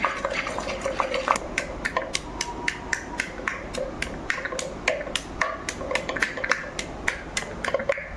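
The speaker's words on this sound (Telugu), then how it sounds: "ఇదిగోండి పప్పు గుత్తితో రుబ్బుతున్నాను." A wooden dal masher (pappu gutti) pounds cooked dal in a pot with quick, regular knocking taps, about two to three per second, steady and close throughout.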